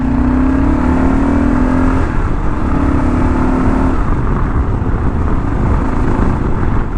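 Loud, close engine of a stock 2022 Kawasaki KLR 650 motorcycle roaring steadily with rising pitch as it revs, a gritty rumble throughout with no voices.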